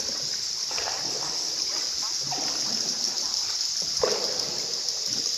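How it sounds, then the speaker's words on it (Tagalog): Water drips from the ceiling of the Puerto Princesa Underground River cave in Palawan, where bats roost overhead. Scattered soft drips and splashes sound over a steady hiss of water, with a few fainter drops around them. "dropping water"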